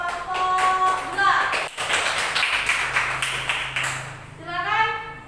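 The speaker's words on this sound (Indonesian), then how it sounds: "Beri aplaus untuk kelompok 2" A classroom gives a round of applause for a presenting student group, scattered claps and taps alongside voices and bits of speech throughout.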